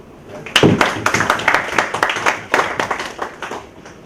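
Audience at an ethics-in-teaching workshop claps for participants who completed both days, a burst of close, crisp hand claps that swells quickly and then thins out over several seconds.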